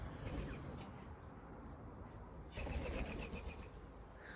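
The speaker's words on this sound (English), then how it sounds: "I've got a pigeon eyeing me up here" A pigeon flaps its wings outdoors near a tree, a rough fluttering rush that fades midway and then returns louder in a second burst, with no speech over it.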